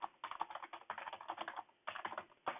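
Fast typing on a computer keyboard, a dense close run of keystrokes broken by two short pauses, with no other sound.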